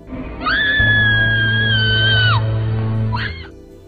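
A woman in a film scene lets out a long, sustained high-pitched scream over a low droning background, then a shorter second cry follows near the end.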